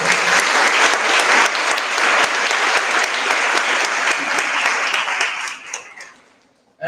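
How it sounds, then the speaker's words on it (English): An audience at a college valedictory function claps loudly and steadily, then the applause thins into scattered claps and fades to near silence. "So please clap for yourself also."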